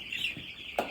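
Broiler chickens in a farm shed give a short cluck and a brief higher call, close by and fairly clear against a steady background hum.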